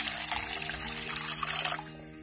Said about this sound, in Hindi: गरम पानी डाल रही हूँ।